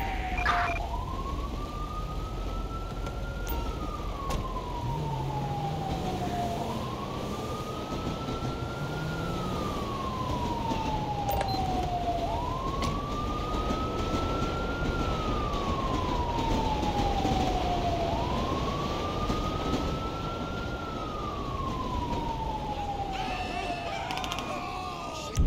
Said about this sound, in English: Let's get EMS out of here. Ambulance.